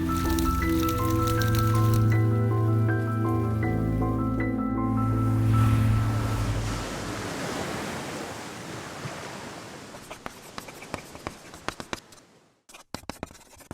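Water drips and patters from a rain machine simulating California rain, heavy at first under a sustained tonal hum, then thinning into scattered individual drops before falling nearly silent.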